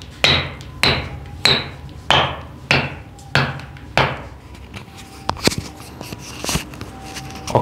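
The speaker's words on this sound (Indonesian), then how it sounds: "oke, sepatu ini cukup bunyi ya, King." A Nike Vapor 15 Club or Specs Lightspeed 3 futsal shoe is knocked by hand in a steady series of seven sharp, loud raps, followed by a few lighter clattering taps.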